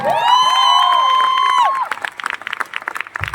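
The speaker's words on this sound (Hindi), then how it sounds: "हीरो के लिए एक जबरदस्त तालियां होना चाहिए" An auditorium crowd in Kolkata applauds and cheers for a teacher: a loud sustained tonal note opens, then gives way to scattered claps and excited shouts that come in uneven bursts.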